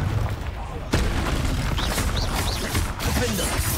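A Confringo fire spell explodes in Hogwarts Legacy amid combat, with a loud booming blast and crackling burst followed by rumbling effects and whooshes, a game voice speaking over the noise.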